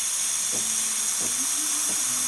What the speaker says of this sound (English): Testing the steam here.